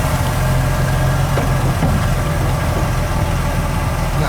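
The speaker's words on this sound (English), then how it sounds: "Starting the 47 Dodge Club Coupe." A 1947 Dodge D-24 Club Coupe with fluid drive idles steadily, its engine giving a loud, continuous low rumble throughout with no talking.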